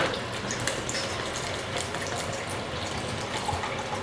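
Water pours steadily into a cup holding ice, a continuous splashing stream at close range, with no voices.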